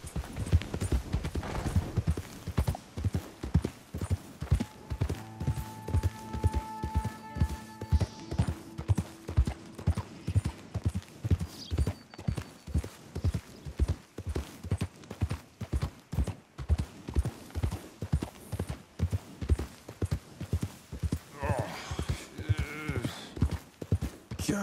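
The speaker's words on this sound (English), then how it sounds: "damn drunk horse" Horse hooves clip-clop steadily and rhythmically for the whole stretch in Red Dead Redemption II, loud and close, with an occasional faint whinny and a brief voice near the end.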